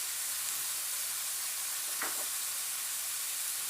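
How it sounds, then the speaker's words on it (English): Turkey bacon renders in a pan with a steady, faint broadband sizzle. A brief soft stir or spatter stands out about midway, and no one talks. "I have the bacon there. And I'm going to let that render down to where I want it to be"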